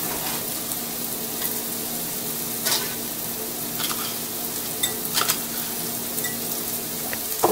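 Pan for a creamy shrimp pasta sizzling steadily as milk and cream go in and are stirred, with a constant fry hiss, scattered spoon scrapes and light clinks against the pan, close and without talking.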